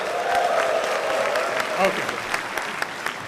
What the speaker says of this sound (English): How about cheering me on?